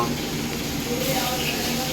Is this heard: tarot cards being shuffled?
no